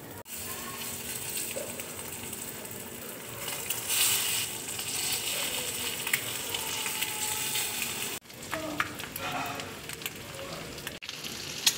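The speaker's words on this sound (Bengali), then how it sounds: "এবার দেখো ডিমগুলো আমি ভেজে নেব।" Eggs frying in a pan, already salted, give a steady broadband sizzle that runs unbroken for about eight seconds, dips briefly, then carries on with scattered crackles and a short break near the end. No talk is heard.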